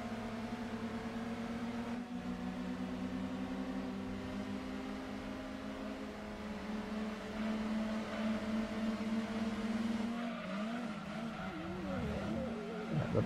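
Race car engine droning in a PS1 racing video game, a steady buzzy mid-pitched whine held at constant revs, then shifting and wavering near the end as the car brakes and turns in, with no talking.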